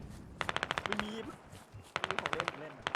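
Rapid automatic gunfire in a Squad match, with two sharp bursts of about ten shots each and a voice talking between and over them.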